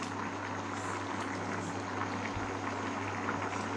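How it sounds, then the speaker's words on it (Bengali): Wood apple murabba syrup boils in a pot, giving a steady bubbling hiss with a low simmering hum that continues without break. "এটা হচ্ছে প্রায় ফুটে গেছে, অনেকটাই ফুটে গেছে। আর একটু ফুটুক"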